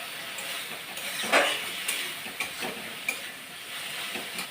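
Steady frying sizzle of tomatoes in a pan, with a few scraping stirs of a utensil popping out at irregular intervals; no talking.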